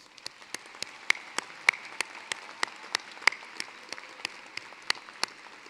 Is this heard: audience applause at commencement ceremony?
yes